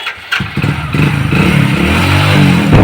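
Motorcycle kicked into life after a few sputtering tries, then settling into a loud, close idle that rises into revs, the engine note climbing and holding steady with no talking over it.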